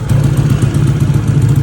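A Racer Sport motorcycle engine runs during a test, a steady low mechanical chug with a faint clatter that holds evenly for the whole short stretch, close by with no talking.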